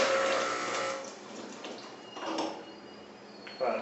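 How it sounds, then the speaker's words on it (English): A Strega lever espresso machine flushes water through its group head, a soft, splashing rush that fades and then surges again near the end, with no talk. "And I'm going to flush the group."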